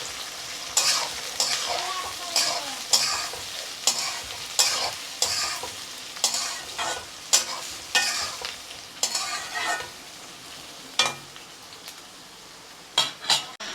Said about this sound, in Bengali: এখন আমি দিয়ে দেবো পেঁয়াজ কুচি। এখন আমি এগুলো ভাজে নেব।